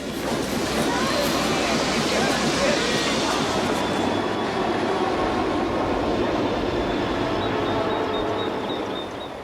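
A film's train rolls along as the trio board it, giving a steady, dense rumble with a faint rhythmic clatter that holds at an even level from start to finish.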